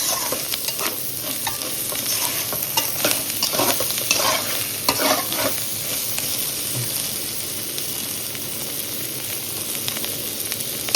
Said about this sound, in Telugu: వేగినాక కారం తిరుగుతా, కారం తిరగడం మళ్ళీ తిరుగుతా.